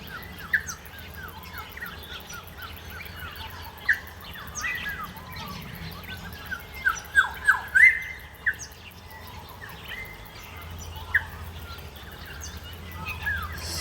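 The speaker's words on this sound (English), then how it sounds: "Listen to these birds." Birds chirp and tweet in short bright calls, clustering into a quick run of notes partway through, with faint insect buzz in the background, in the countryside at Nyngan, New South Wales.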